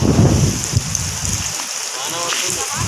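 Steady rain falling outdoors during a chilly school day, a dense, fairly loud hiss of drops on surfaces that stays continuous throughout, with no talk heard.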